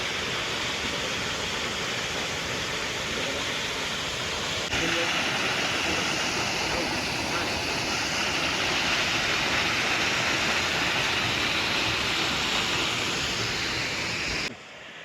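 Small water streams at Apsara Kund pool in Pachmarhi rush and splash steadily, a loud continuous wash of water that fills the whole scene without pause.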